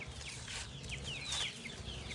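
A farm hen gives soft, repeated clucks and brief chirpy calls at moderate distance, over a low background rumble and with no voices.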